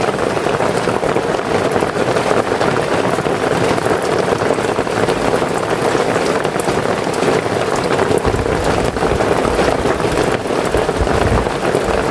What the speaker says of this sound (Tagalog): Kanina pa ang ulan.